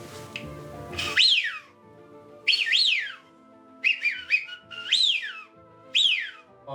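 Whistled calls imitating Eurasian wigeon, used to lure the ducks in Venetian lagoon wetland: five or six sharp rising-falling whistles in spaced bursts, close and fairly loud, with no talk over them.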